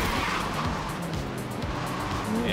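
A buggy races at high speed in Forza Horizon 3 Hot Wheels, its engine roaring loud and close with tire squeal and skidding throughout.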